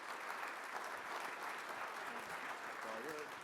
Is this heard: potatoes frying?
no